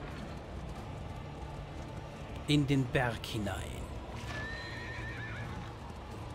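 A horse whinnies loudly and close in Darkest Dungeon 2, a sharp neigh breaking through a steady clip-clop of hooves and ambient rumble, while someone speaks briefly in German.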